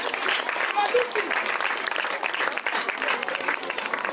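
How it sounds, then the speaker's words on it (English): An audience at a girl-child campaign event in Nigeria claps for a girl, continuous moderate applause with a few brief voices rising over it. "Clap for her now!"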